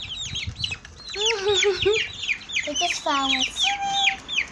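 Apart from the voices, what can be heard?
chickens clucking while fighting over a worm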